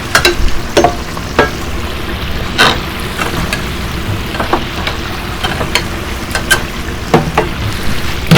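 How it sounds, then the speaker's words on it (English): Food sizzles in a pressure fryer while being stirred, a loud steady frying hiss broken by sharp clicks and scrapes from the stirring, close up with no talking. "And after I have it in the fryer, I leave it sitting there for about a minute, give it a little stir just so it doesn't stick together."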